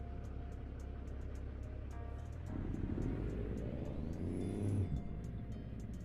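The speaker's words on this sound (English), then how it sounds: "these modded engines are really loud" Loud modded truck engine driving in American Truck Simulator, a steady low drone that swells as the engine revs up midway and then eases back, with a faint high whine and periodic ticking above.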